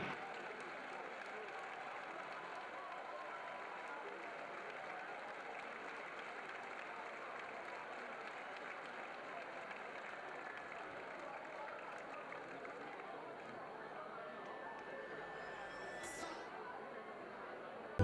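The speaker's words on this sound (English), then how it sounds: "how about a big round of applause" A crowd at a college basketball game applauds the 1994-95 team, a long, even wash of clapping and crowd chatter heard from a distance, fairly faint and steady throughout.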